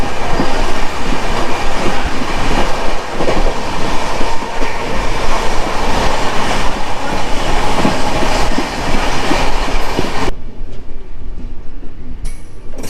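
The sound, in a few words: Coromandel Express train running at high speed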